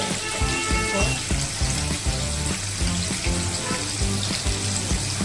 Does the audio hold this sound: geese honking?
no